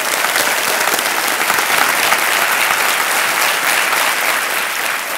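A studio audience at the Kaun Banega Crorepati quiz show breaks into loud, sustained applause, a dense wash of clapping that fills the room throughout without a voice over it.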